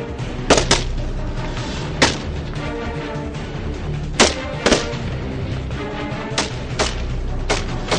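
Sharp gunfire at a special forces shooting range, single shots and quick pairs cracking out at irregular intervals over eight seconds against a steady low background rumble.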